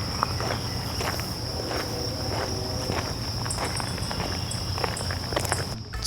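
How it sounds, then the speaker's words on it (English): Crickets and birds in the early morning fill the air with a steady high insect drone and scattered chirps, with faint footsteps and ambient noise beneath. "It's crazy how loud all the birds and crickets and stuff are this early in the morning."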